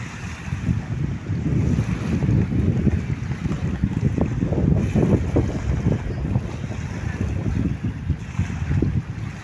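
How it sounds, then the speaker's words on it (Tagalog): Strong wind buffets the microphone in rough, constant gusts at Dolomite Beach in Manila, with surf churning underneath; no voices. "Talagang maganda pa rin at walang kupas at malakas ang hangin."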